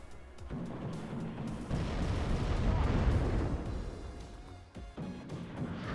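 Artillery shells land in a WARNO battle, a rolling low rumble of distant impacts and blasts swelling over several seconds, mixed with sharper crackling bursts, with no voices over it.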